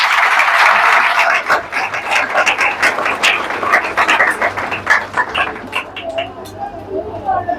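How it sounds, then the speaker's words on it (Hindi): A church congregation claps for Jesus Christ during a sermon, a loud, dense wash of applause that thins into scattered, uneven claps toward the end, with a faint low hum underneath. "भरपूर तालियां यीशु मसीह के लिए"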